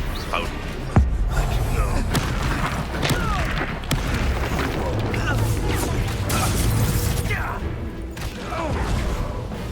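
Confringo spell explosion in the Hogwarts Legacy video game, a sharp blast near the start amid a dense, loud battle mix of rumbles, whooshes and impacts, with voices heard during the fighting.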